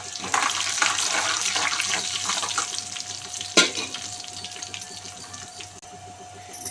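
Fenugreek, mustard seeds and urad dal frying in hot oil for a tempering, a loud continuous crackling sizzle up close with a sharp clatter midway as the pan is stirred.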